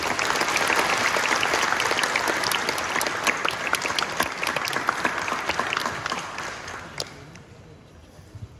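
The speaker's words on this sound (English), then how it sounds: "I think we should give all of our graduates a round of applause." Graduation-ceremony audience at Teesside University in Middlesbrough applauding the graduates, loud, dense clapping from a large crowd that stays full for several seconds and then thins to scattered claps.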